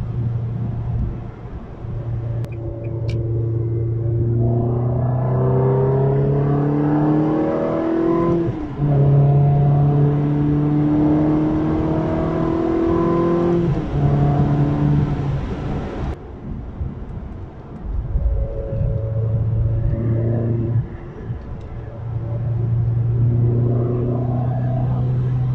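A Porsche 911 GT3 RS with a single-clutch gearbox accelerates hard, its rising engine note climbing through several gears with abrupt shift breaks, close and loud, with wind buffeting on the microphone.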